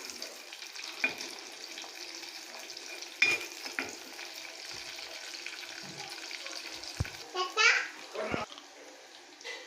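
Onions sautéing in sesame oil in a clay pot give a soft, steady sizzle, with scattered stirring scrapes and louder clinks toward the end, under a voice speaking.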